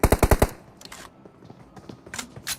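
Automatic gunfire in PUBG Mobile: a rapid burst of five loud close shots, then scattered softer distant shots and impacts.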